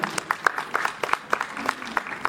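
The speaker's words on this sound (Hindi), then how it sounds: "तालियां जरा जोर से बजाइएगा" A small audience at a traditional Nautanki performance claps, sparse and uneven individual claps rather than a full ovation, fairly close and moderately loud.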